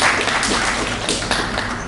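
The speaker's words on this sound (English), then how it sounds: "give them a round of applause" An audience at a public event in Dominica gives a round of applause, a dense, steady wash of many hands clapping close by, continuing without break for about two seconds.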